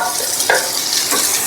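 Fried banana blossom and potato go into sizzling spices in a pan for mochar ghonto, a loud close hiss with a couple of scraping stirring strokes and no talk.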